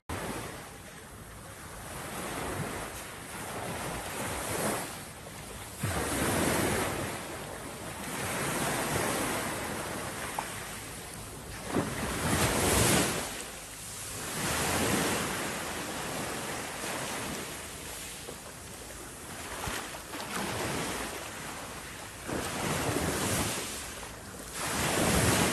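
Sea waves at a beach resort in Kemer, Turkey: repeated surges of surf rolling in and breaking every few seconds, loud and close, with wind noise and no speech.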